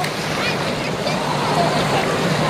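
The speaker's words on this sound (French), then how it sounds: "dans la piscine à vagues" Waves surge and wash through a wave pool in a southern water park, making a loud, continuous churning roar of splashing water with people's voices and shouts mixed in.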